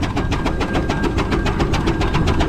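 A steam engine at a country steam fair chuffs loudly and close by, its regular rapid beats carried over a heavy low rumble of machinery.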